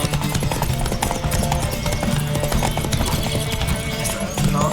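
Rapid hoofbeats of a galloping horse in the video game The Witcher 3: Wild Hunt pound continuously under dense background music and effects.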